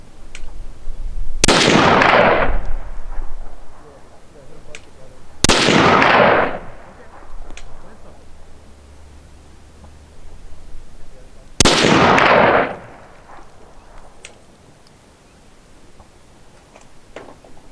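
A French MAS 49/56 rifle fires three loud, sharp outdoor shots several seconds apart, each ringing and echoing briefly before fading.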